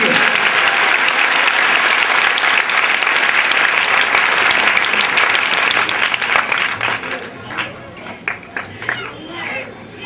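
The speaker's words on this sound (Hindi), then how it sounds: "सब जोर से तालियां बजाएं यीशु मसीह के लिए।" A church congregation at a healing and miracle prayer meeting in Kaithal claps loudly for Jesus, dense sustained applause with crowd noise that thins out and breaks into scattered claps toward the end.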